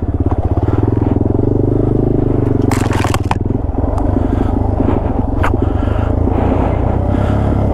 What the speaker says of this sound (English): Back there, back tire, doing all that scratching.